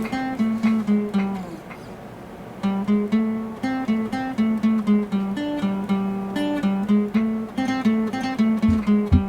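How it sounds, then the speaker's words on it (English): Solo acoustic guitar plucks a busier version of the riff, a steady stream of bright picked notes in a repeating low melodic pattern with a short pause partway, close and clear with no talking. "I'm just going to solo the acoustic guitar so you can hear it by itself"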